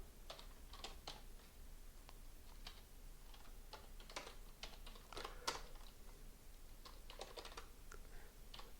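Quiet, irregular typing on a computer keyboard while a simple Python script is written, with scattered clicky keystrokes and short bursts, no voices.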